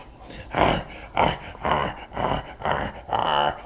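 Siberian Husky growling playfully in short bursts, about six rough, throaty growl-grunts in a loose rhythm, close and fairly loud, with no talking over them.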